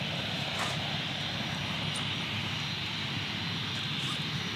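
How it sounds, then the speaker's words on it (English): A Cessna light aircraft flies over Gold Coast Airport in heavy rain, its engine a broad, steady roar blended with rain hiss, loud and continuous throughout. "There's a Cessna about to fly over"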